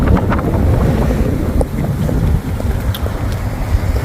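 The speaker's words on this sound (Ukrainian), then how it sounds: "Страшенний вітер." Strong wind buffeting the microphone, a deep continuous rumble with gusty surges and no voices.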